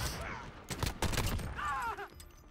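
Rapid gunfire in the Modern Warfare multiplayer video game comes in short bursts under faint voices, growing louder midway.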